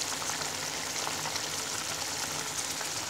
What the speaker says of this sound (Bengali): এবার ঢাকনা দিয়ে ঢেকে 5 মিনিট রান্না করে নিব।